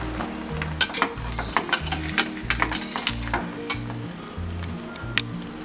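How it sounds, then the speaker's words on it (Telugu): Roti with an egg filling sizzles and fries on a hot pan while being stirred or pressed, a steady crackle broken by regular soft scraping knocks, close and alone with no talk. "కొంచెం ఆ రోటీ కూడా ఫ్రై అవ్వాలి లైట్గా"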